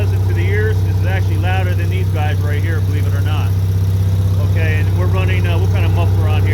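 An Onan generator fitted with a high-performance Micron motorcycle muffler runs at a steady, loud low hum and drone, with someone talking over it throughout.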